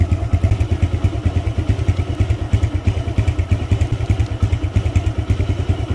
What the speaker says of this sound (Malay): Okay, saya start dulu motor. Okay, motor dah start.